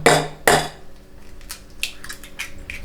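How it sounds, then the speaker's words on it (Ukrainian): Eggs are beaten in a bowl with a utensil: two sharp clinks against the bowl open, followed by lighter, irregular tapping and scraping, close and fairly quiet, with no talk. "У миску я збиваю яйця."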